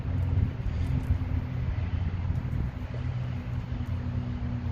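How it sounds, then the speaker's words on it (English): Wind gusts outdoors buffet the microphone in a steady low rumble, loud and continuous throughout with no speech. "The wind is blowing"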